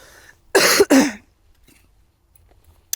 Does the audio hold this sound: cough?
yes